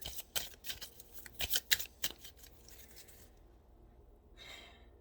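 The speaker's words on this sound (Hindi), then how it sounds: "मैं एक लास्ट कार्ड और निकालती हूँ, एंजल कहते हैं कि एक कार्ड और निकालें।" Oracle cards being shuffled and drawn: a close run of sharp, papery riffles and snaps that fades into quiet, followed by a soft slide near the end.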